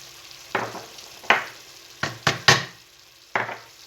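Paprika is stirred into a chicken casserole with about six distinct scraping strokes, some in quick succession, over a faint simmer; nearby and moderately loud.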